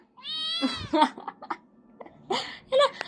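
Hungry pet cats meow near the microphone, with a long drawn-out cry followed by several shorter, higher calls spread over a few seconds and quiet gaps in between.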